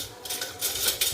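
Spoons and other cutlery clatter and clink together continuously in a short, busy burst, close by and fairly loud, with no voices over it.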